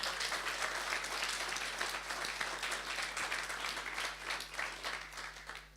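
Audience applause at a song contest for traditional and bluegrass music, steady even clapping from a crowd heard at some distance, with a constant low hum beneath it and no voices over it.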